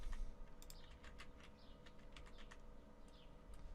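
Keys clatter on a computer keyboard while a password is entered, in short irregular bursts of close, crisp clicks over a low background hum, with no voices.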